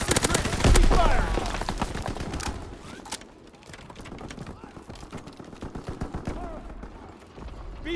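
Rapid gunfire in a Call of Duty: WWII battle, loud bursts of rifle and machine-gun fire crackling steadily over several seconds with a dense, chaotic mix of shots and combat noise.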